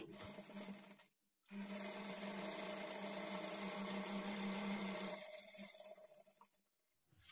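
A sewing machine runs steadily while stitching a blouse, a continuous close motor hum and needle chatter lasting several seconds, with a short pause near the start and again near the end.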